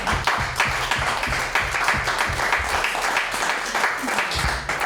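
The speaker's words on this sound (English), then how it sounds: "Now a round of applause." A round of applause fills a city council special meeting in Newport, with dense, steady clapping from many hands sustained throughout, while voices murmur faintly underneath.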